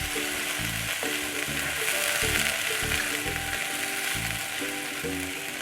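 Green garlic, green chili and onion sautéing in a kadai, a continuous sizzle broken by rhythmic scraping strokes of a spatula stirring the pan.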